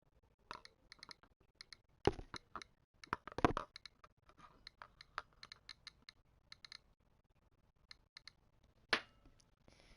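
Radiation counter clicking near yellow uranium glass: irregular sharp clicks, some in quick bursts and a few louder pops, scattered over a quiet background.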